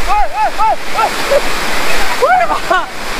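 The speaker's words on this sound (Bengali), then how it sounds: "বিশাল ঠান্ডা জল।" Cold water rushes steadily and loudly at a camp below the hills of Purulia, a continuous close roar with people talking over it.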